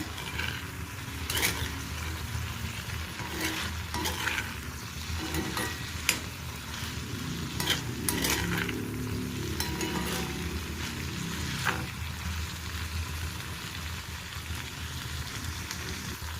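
Snake gourd pachadi cooking in a pan and being stirred, a steady dense sizzle and bubbling throughout with repeated scraping strokes of a spoon, no talking.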